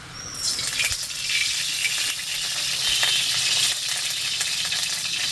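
Oil poured into a hot pan for a vegetarian ridge gourd curry, giving a loud, continuous bright sizzle and crackle that starts abruptly and keeps going to the end.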